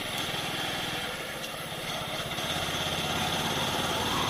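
A Hero Glamour motorcycle engine idles steadily in the hills of Darjeeling, a continuous buzzing, throbbing drone that holds at an even, moderately loud level throughout with no voices.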